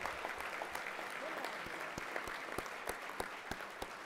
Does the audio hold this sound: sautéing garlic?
no